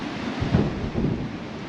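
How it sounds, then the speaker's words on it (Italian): Strong gusts of wind in Patagonia buffet the microphone with a loud, low roar that swells in two surges over a steady rush, heard alone. "Quando arrivano le folate di vento, una moto da quasi 4 quintali sembra di colpo non pesare nulla."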